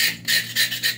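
A knife scrapes the thick outer skin of pork in four rhythmic rasping strokes, close and crisp, with no speech.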